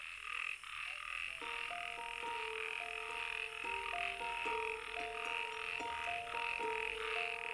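Male toads call at a spring breeding gathering in a steady, overlapping chorus of repeated rhythmic croaks, close and fairly loud, over a constant high hiss of background insects.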